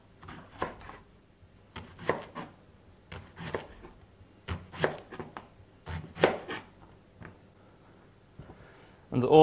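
A knife chops leek on a cutting board in a run of irregular, crisp thuds grouped in quick clusters with short pauses, close and clear in a quiet kitchen.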